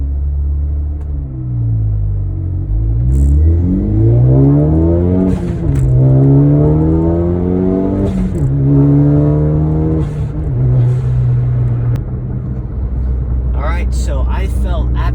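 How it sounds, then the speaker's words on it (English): Ford Focus ST with a stage 2 rear motor mount revs, then launches hard at full throttle, engine note climbing and dropping through hard shifts in second and third, loud and close, with a voice talking over it. "I'm just going to rev it up just a little bit, not something too aggressive, and I'll shift really hard and floor it"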